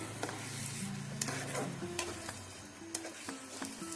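A mash of bottle gourd and mung dal being stirred in a pan, soft sizzling under sharp intermittent clicks and scrapes of a spatula against the pan, with a low steady hum in the background.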